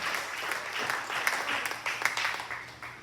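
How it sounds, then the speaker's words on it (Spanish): Church congregation claps during a Spanish-language sermon, a brisk, moderately loud burst of hands with a few sharper accents, and the preacher's voice faintly audible underneath. "Si le va a dar ese aplauso, que sea fuerte, que llegue a la presencia de Dios."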